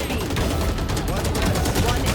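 Vandal rifle fire in Valorant on the Pearl map: dense, loud automatic shots rattling without pause, with a voice faintly present underneath.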